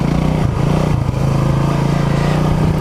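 A Honda CB250RS motorcycle rides off-road over a leaf-covered track, its engine droning loud and steady close by with slight throttle dips, no voices.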